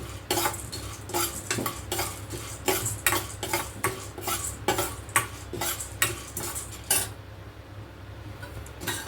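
Pumpkin seeds stirred in a pan while making areca nut powder, a rhythmic series of scraping and rattling strokes from a spoon against the metal, close and fairly loud, with a brief pause near the end and no voices.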